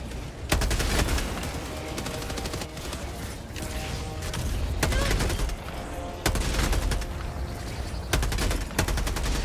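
Heavy gunfire in Helldivers 2 during an outpost fight, with sustained automatic bursts and sharp repeated shots crackling loudly over a dense battle din, punctuated by several stronger volleys and impacts.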